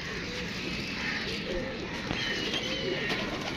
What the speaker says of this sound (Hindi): ये दोस्तों 3 कबूतर हो गए।